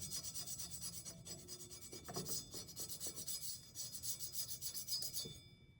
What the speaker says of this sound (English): I'll just scrape it lightly